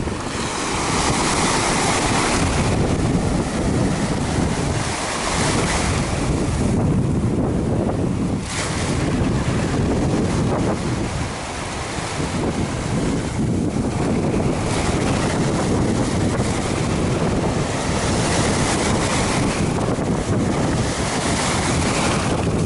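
Ocean surf breaks continuously on the beach at Pompano Beach, Florida, a loud broad roar of waves washing in and out with gusty wind buffeting the microphone throughout.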